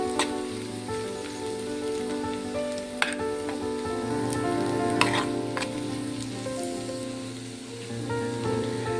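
Egg puff stuffing frying in a pan in a home kitchen, a steady close sizzle with a few sharp clinks of a spatula scraping the pan, alone without voices.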